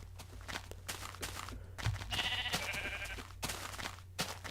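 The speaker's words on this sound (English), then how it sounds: "Oh, hey, brown sheep." A brown sheep bleats once in a video game, a short wavering cry at moderate volume over a low steady hum and scattered soft clicks and footsteps.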